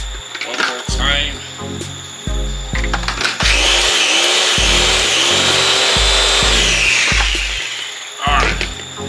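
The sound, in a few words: blender blending birria sauce ingredients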